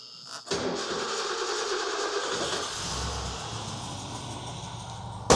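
A 1971 Lincoln Mark III with a 460 V8 and dual exhaust starts up, catching abruptly after a short moment, then settles into a steady, even idle rumble with no voices.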